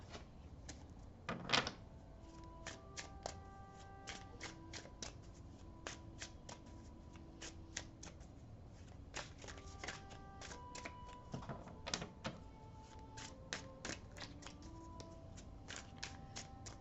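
Tarot cards are shuffled in quick, crisp riffles and flicks, a quiet, close, steady patter of papery snaps that continues for a long stretch without speech.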